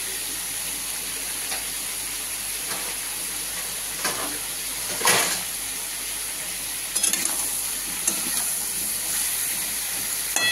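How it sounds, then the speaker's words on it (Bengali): A papaya vegetable curry sautés covered in a pan, a continuous steamy hiss and sizzle filling the scene, with occasional soft stirring scrapes and clinks. "এবার এটা ঢেকে ঢেকে কষা হবে।"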